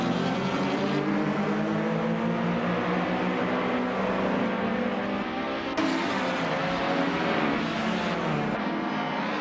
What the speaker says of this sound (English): The top three drivers are positioned tightly as they accelerate down the track.